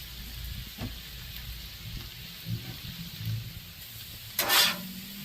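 Soft sizzling on a Blackstone griddle as Rotel and tomatoes go into a Cajun stir fry, a low steady crackle with a few light scrapes and a brief sharp hiss near the end.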